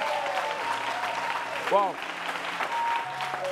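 A studio audience on a television talk show applauds an award for best Central African artist. The clapping is steady and moderately loud throughout, mixed with a brief exclamation and some speech.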